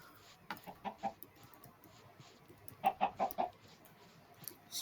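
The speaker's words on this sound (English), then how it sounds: "This chicken is taking a dip in this pond." Chickens cluck in a Minecraft 1.8.8 world by a pond, two short runs of clipped, fairly soft clucks, the second group slightly louder, over quiet ambient game background.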